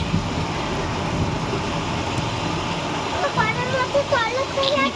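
Heavy rain pours outdoors with overflowing drains, a dense steady wash of water noise with some traffic-like rumble beneath and faint chirping sounds toward the end.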